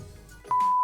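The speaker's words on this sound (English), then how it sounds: "And the notification bell." A notification bell chime rings out abruptly and loud partway through, holding a steady bright tone to the end after a quieter, murky lead-in with no talk.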